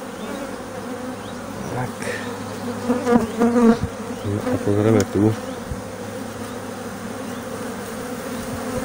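Honeybees buzz continuously around an open beehive, a close, steady hum with brief louder passes, while a person speaks quietly over it.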